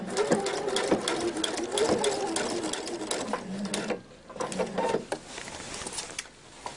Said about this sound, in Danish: nu skal vi sy hele vejen rundt om tasken